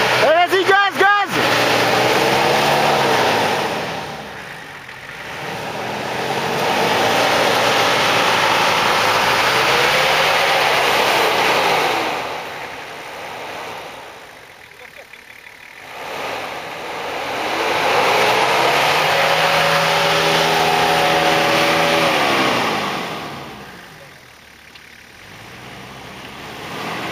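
A car engine labours on a snowy mountain pass, revving hard in long rising and falling surges separated by brief lulls, close and loud, with people talking over it.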